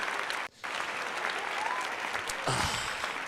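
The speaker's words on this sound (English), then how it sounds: "Let's give everybody a round of applause, because you guys are the best." A round of applause from a crowd: dense, steady clapping that stays at an even level throughout, with one brief dip near the start.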